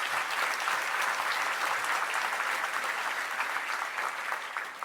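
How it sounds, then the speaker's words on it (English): Sustained applause from an audience at a sheriff's office law enforcement awards ceremony, dense steady clapping throughout that tapers slightly at the end. "A round of applause for these nominees."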